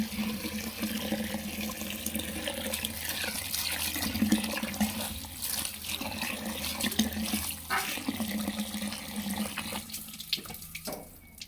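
Moringa seeds are washed in a pot of water, with steady running and splashing water, sloshing and faint clinks of the vessel throughout, near and fairly loud with no talking.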